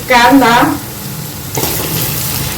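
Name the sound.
onion frying in a pan with garlic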